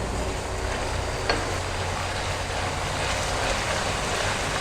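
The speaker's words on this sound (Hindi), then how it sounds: "अदरक लहसुन का पेस्ट शामिल कर भी अच्छी तरह से इसके अंदर फ्राई हो जाए।" Onion with ginger garlic paste sizzling steadily in a hot pan, a loud continuous frying hiss with no talk over it.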